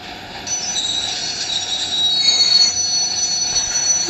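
A train's wheels squeal as it brakes in the video game Indian Bike 3D, a loud, sustained, shrill screech that grows stronger partway through and carries on to the end with no talk.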